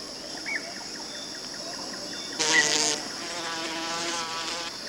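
A social paper wasp buzzes faintly in a natural setting, with a thin insect whine rising into a louder burst near the middle before settling back to a soft drone.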